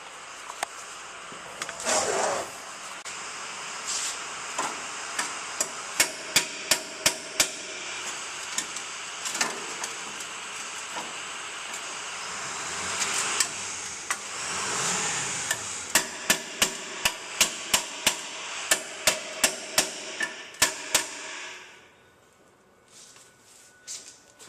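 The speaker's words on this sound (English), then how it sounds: "Take an air hammer to it and try and push those bolts" An air hammer pounds away pushing out bolts during brake work on a 2005 Honda Accord, in bursts of rapid, loud metallic impacts, with clear separate strikes toward the end before it stops abruptly.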